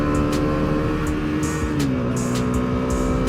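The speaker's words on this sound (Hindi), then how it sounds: "3rd गियर पे पिकअप ले रहा हूँ मैं" A Bajaj Dominar 250 motorcycle in road mode pulls hard in third gear, its steady engine drone rising slightly in pitch as it accelerates, loud and close throughout with wind noise.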